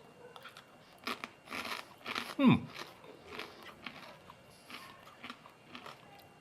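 Close, crisp crunching as someone bites and chews Japanese peanuts, a series of irregular crackly bursts fading into quieter chewing.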